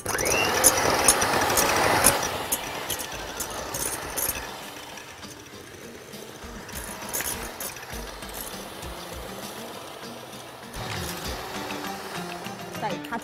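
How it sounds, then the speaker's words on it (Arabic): An electric mixer beats eggs with lemon, vanilla and sugar for a lemon cake. It gives a steady mechanical whir that is loudest at first and then settles into a lower, continuous drone, with a voice talking over it. "البيض مع الليمون مع الفانيلا، ونضرب كويس قوي، وانا بضرب هحط السكر معاه."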